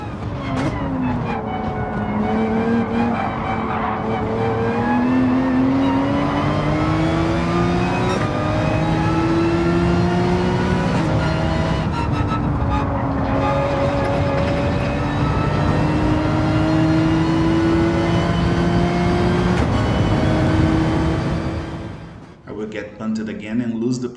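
Race car engines in Gran Turismo 7 drone and rev continuously, rising and falling through gear changes, loud and close, with a commentator talking over them until the sound cuts off near the end.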